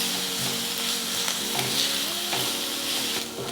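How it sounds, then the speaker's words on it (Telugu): Chopped onion pieces sizzle steadily in hot oil for a brinjal masala curry, with a utensil scraping and stirring through the pan at intervals, close and continuous. "ఈ ఉల్లిపాయ ముక్కల్ని బాగా వేయించుకోవాలి."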